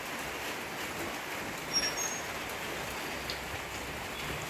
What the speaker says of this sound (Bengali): এই যে দেখো ঝিরিঝিরি বৃষ্টি পড়ছে